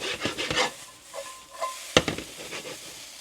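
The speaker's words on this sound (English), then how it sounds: "let those onions cook a little bit to become a little bit more on the clear side or translucent side" Onions cook in a HexClad pan over just-above-medium heat, with a soft hiss and a few scraping stirs and a sharp utensil clack against the pan, close and fairly quiet.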